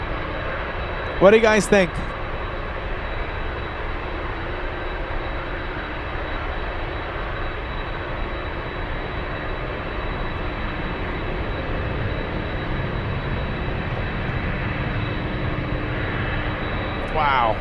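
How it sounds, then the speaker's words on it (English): A cargo airplane takes off at Anchorage airport, its steady, broad jet roar heard from a distance and holding evenly throughout, with a person briefly speaking near the start. "that is the best sounding takeoff of all day"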